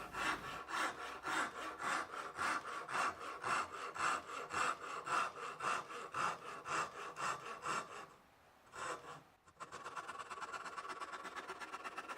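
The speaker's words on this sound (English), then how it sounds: "Then it's on to the saw rasp and faceting method of neck carving." A saw rasp carves a walnut guitar neck in quick, rhythmic rasping strokes, close and steady, pausing briefly before a rapid run of finer strokes.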